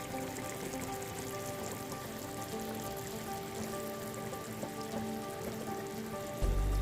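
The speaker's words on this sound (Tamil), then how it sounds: "அது வரைக்கும் இதை வந்து மிதமான தீயிலே கொதிக்க விட்டுறலாம்" Chicken gravy simmers on medium heat in a pan, a steady bubbling, crackling simmer continuing without pause, close and even, with a faint hum beneath it.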